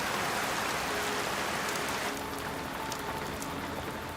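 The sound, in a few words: heavy tropical rainstorm in the jungle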